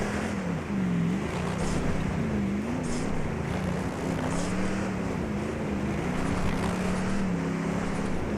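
A truck engine in the Baja off-road racing game drones steadily under feathered throttle, its pitch rising and dipping in small waves against a constant rushing wind-like noise, continuous and moderately loud with no talk.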